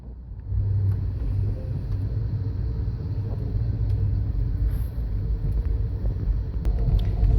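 Amtrak Coast Starlight passenger train riding toward Southern California, heard from inside as a steady, loud low rumble that holds evenly throughout with no voices.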